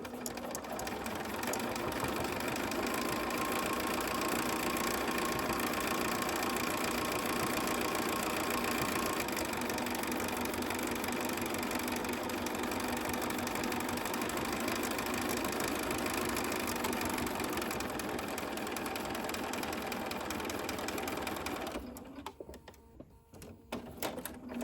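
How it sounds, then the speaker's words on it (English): A sewing machine top-stitching fabric runs continuously at a steady pace, a fast mechanical whir and clatter that stops abruptly near the end. "Go back to your sewing machine and do a top stitch all the way around the edge of the ear"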